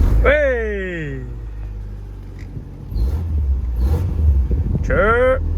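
A Honda Civic with a swapped B16 VTEC engine is started after a fuse replacement and settles into a loud, close, low rumbling idle that rises in the last seconds, while voices shout and talk loudly over it.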